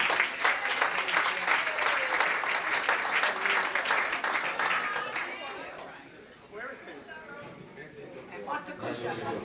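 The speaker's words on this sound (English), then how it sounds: "How about a nice round of applause for Andy?" A crowd applauds at a family birthday party, loud and sustained clapping that fades partway through as chatter and talking continue underneath.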